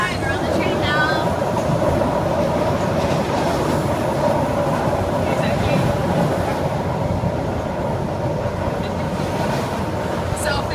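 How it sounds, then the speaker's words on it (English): Riding aboard a passenger train in Romania, a steady loud rumble and rattle of the carriage rolling along the rails fills the cabin, with faint voices in the background throughout. "We're on the train now."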